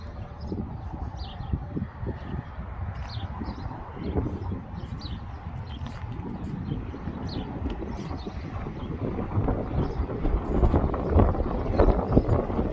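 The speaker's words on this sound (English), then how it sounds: "I know the wind is crazy, so I hope the audio is okay" Strong gusty wind buffets the microphone outdoors on a roadside stop between Amarillo and Albuquerque, a continuous heavy low rumble that swells toward the end, with no talking.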